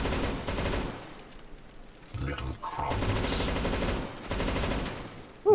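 Rapid bursts of MAG-10 shotgun fire in CS:GO, played on a horror map, come in several loud, dense volleys with short gaps between them and a sharp final shot at the end.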